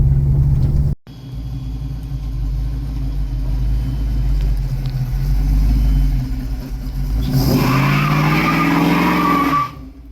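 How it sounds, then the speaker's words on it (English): A Ford Mustang with freshly serviced rear shocks and brake lines rumbles steadily, then its tires squeal and skid briefly as it brakes, loud and close, with no speech. "Alright, do a soft brake check."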